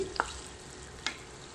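Chopped tomatoes fry in a spice mix for beef kofta curry, giving a soft steady sizzle with two brief stirring scrapes, close by and quiet.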